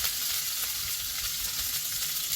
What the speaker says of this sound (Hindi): राई डाल रहे हैं। अब हम इसमें अदरक डाल देंगे कसी हुई, कड़ी पत्ता,